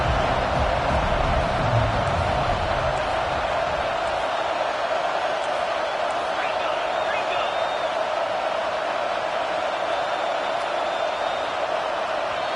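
Steady roar of a stadium crowd in an American football video game, a dense continuous wash that stays loud and even throughout, with a commentator's voice talking over it.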